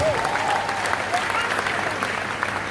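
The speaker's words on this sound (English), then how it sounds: "Can you clap for my mastermind, please?" Audience clapping fills the room at a presentation, a steady dense applause with faint voices and whistle-like cries mixed in, fairly loud and sustained throughout.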